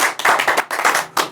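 Hands clap in brisk bursts with short gaps between them, close and fairly loud, a few claps in quick succession for the viewers on a Punjabi comedy talk show.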